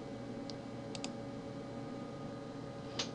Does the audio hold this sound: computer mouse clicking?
yes